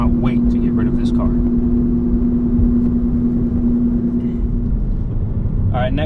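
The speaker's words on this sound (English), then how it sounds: "But this noise, this constant hum, this drone, that is so annoying" A constant low droning hum fills the inside of a Volkswagen car. The steady tonal rumble holds loud throughout while a person talks over it.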